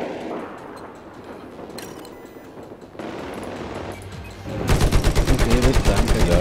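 Gunfire aimed at a helicopter in Battlefield 4: scattered shots and bursts over game ambience, building into a loud, rapid sustained volley of automatic fire near the end.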